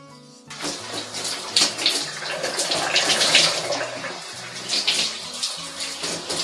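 Running water rinses shampoo out of hair in a steady, close wash that starts after a short pause, with background music underneath.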